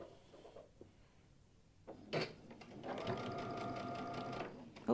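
A sewing machine stitches a quilt block, preceded by a soft clunk and faint handling sounds, then running in a steady, close whirring burst for about two seconds; no talk over the stitching.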